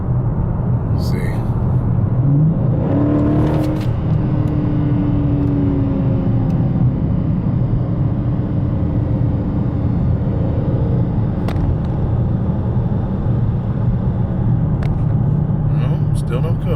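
A 2015 Dodge Challenger SRT 392 V8 running in four-cylinder mode, rumbling steadily nearby with a brief rev, while someone talks over the engine.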